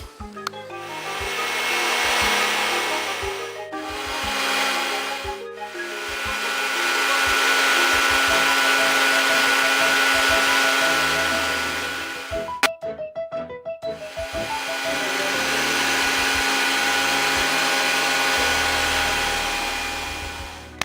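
An electric mixer whipping egg whites with powdered sugar for macarons: a steady whirring motor drone runs in long stretches, stopping briefly twice, with a clattering rattle of the whisk in the bowl between runs.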